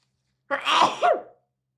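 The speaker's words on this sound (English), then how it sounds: "But I'm gonna sneeze." A single sharp sneeze, close and loud, bursting out of silence and trailing off quickly.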